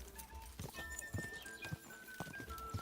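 Horse hooves clip-clop in a steady, moderately quick rhythm in Kingdom Come: Deliverance II, fairly faint, with a thin electronic tone and game ambience underneath.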